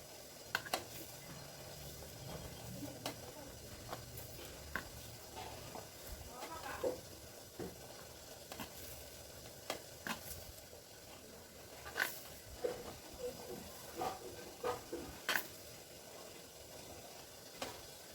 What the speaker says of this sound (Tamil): போட்டு நல்லா பிசைஞ்சிக்கலாம். நல்லா இப்படி உடச்சி விடுங்க